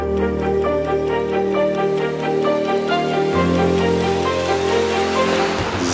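The river Polenz, running full from rain and meltwater, rushes in a loud, steady broadband roar without pause, with a constant tonal hum layered through it.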